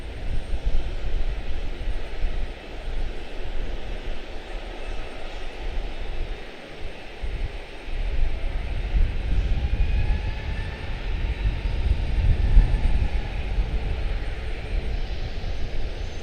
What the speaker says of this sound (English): I hear engines, but it's the ones that are in front of me.